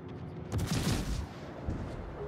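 In a naval warship video game featuring the Kutuzov, a deep, muffled boom of gunfire rolls out over a low background rumble and fades within about a second.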